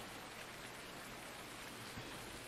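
Rain falls in a farming video game: a dense, constant hiss of drops on surfaces, fairly soft and unbroken, with no voices over it.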